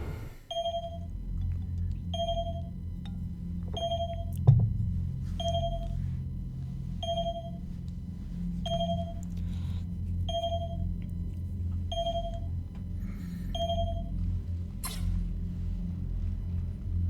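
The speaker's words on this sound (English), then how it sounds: "Gotta love the phone interrupting the scene." A telephone rings during a Mass Effect 3 scene: an electronic tone repeats at a steady, even pace roughly a dozen times over a low continuous rumble, with no talking.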